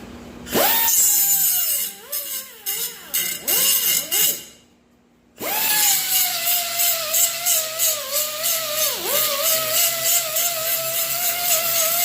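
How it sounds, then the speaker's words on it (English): A power grinder works a part for a 1967-68 Camaro Chevelle tilt steering column, loud whining bursts that rise and dip under load, a brief stop, then a long steady grind. "And we're going to grind that down."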